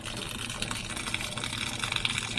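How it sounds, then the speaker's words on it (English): Well water pouring from a tap, sputtering with air rather than running as a solid stream, a steady close gush with irregular spurts. "Like you can hear air coming out, and it's not really a solid stream usually when she's really full."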